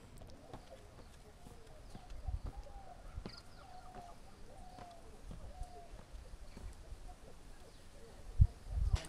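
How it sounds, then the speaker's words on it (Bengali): Scattered bird calls ring out across quiet Susunia hill at dusk, with occasional soft thumps and rustles nearby. "চারিদিকে নিস্তব্ধ, পাখি ডাকছে"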